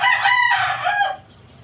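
A single rooster crows once, close and clear, a drawn-out cock-a-doodle-doo that fades into quiet.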